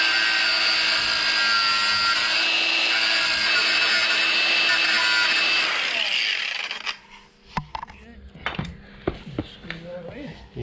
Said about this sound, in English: now we're going to have to try to cut a slot with a grinder